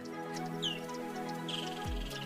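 Birds twitter and chirp on a safari drive: a few short, bright calls rise over a steady low background hum, with no voices.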